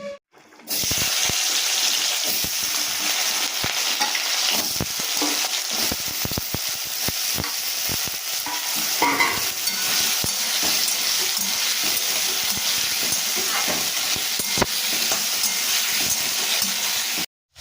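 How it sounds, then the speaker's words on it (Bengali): Potatoes sizzle loudly in hot oil seasoned with five-spice and bay leaf, a close, dense, continuous frying hiss with occasional stirring clatter and no talk. "তেলটা গরম হয়ে গেছে এবার আমি আলুগুলো দিয়ে দিচ্ছি"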